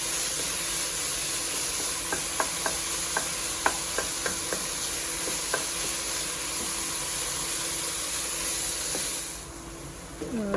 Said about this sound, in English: allow that to cook for about 2 to 3 minutes. Or until the onion is translucent.